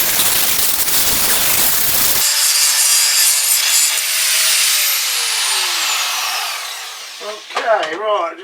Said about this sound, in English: just got to tickle that up with a sander as well now, just to smooth it out a bit